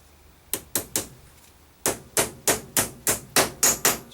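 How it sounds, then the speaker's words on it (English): A hammer pounds an arbor into a ZTR riding mower deck idler pulley from an MTD/Toro part: three sharp metallic blows, a short pause, then about eight more in a steady rhythm, close and crisp. "Let's pound that into place."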